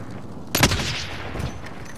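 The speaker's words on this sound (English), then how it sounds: "I'm hearing sniper rounds up here" Sniper rifle fire in Call of Duty Warzone, one sharp loud crack followed by a ringing echo tail and a fainter second report, with no talk over it.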